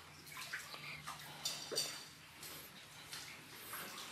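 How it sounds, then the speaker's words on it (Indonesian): Floodwater from heavy rain standing inside a house, heard as faint, quiet sloshing and scattered drips and splashes in a hushed room. "ini banjir tapi tidak terlalu gara-gara hujannya gede, aduh sampai di kamar-kamar"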